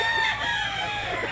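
A rooster at a chicken market in Mantalungon, Barili, Cebu gives a steady crowing call, near and fairly loud, over a constant background hum, with no talk.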